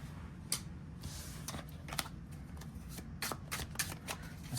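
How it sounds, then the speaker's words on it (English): An oracle deck of cards is shuffled by hand, a rapid series of soft crisp riffling bursts and flicks, close and fairly quiet with no talking. "So let me just shuffle this."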